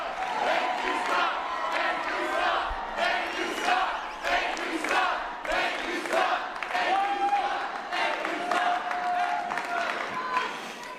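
A young conservative crowd roars and cheers for Scott Presler at a big youth event, a dense continuous wall of shouting and whooping that rises and falls with scattered clapping mixed in.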